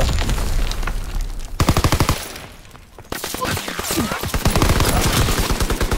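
PPSh submachine gun in a World War II video game, loud rapid automatic bursts in long sustained strings, with a short gap before firing resumes, and faint talk underneath.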